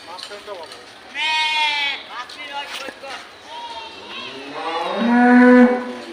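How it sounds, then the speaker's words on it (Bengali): Cattle moo loudly nearby, several drawn-out calls, among people talking in the background. "এই গরুটা সুন্দর বেশি"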